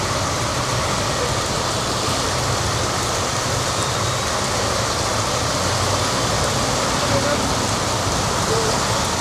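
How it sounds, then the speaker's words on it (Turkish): Heavy rain pours down in Bali, a dense, steady hiss of downpour that fills the whole stretch evenly and loudly, with no breaks or letup. "Fena yağmaya başladı ya,"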